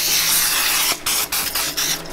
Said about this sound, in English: by the way, this is butter flavored spray